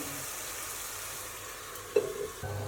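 Tomatoes dropped into a pan of frying onion-spice gravy for a vegetable curry and stirred in, a steady low sizzle with a sharp splash of contact and a few scraping stirs.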